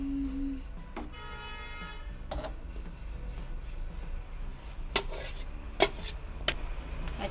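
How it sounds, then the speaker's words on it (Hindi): Jaggery kheer being stirred in a pot after a paste of jaggery and rice goes in, giving soft steady scraping with a few sharp spoon knocks against the pot, fairly quiet and with no talking. "अच्छे से हम इन सबको मिक्स कर देंगे"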